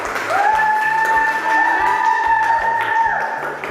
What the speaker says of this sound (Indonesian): Beri aplaus untuk kelompok kinestetik.